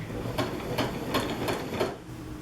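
Sewing machine top stitching a fabric allowance to a gown lining, running in a steady rhythmic whir with about five evenly spaced needle thumps, close and alone.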